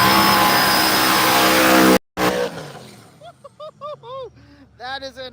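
A very loud race car at a racing event blasts at full throttle close by, then cuts out abruptly before short, sharp revving bursts with rising and falling pitch follow in quick succession.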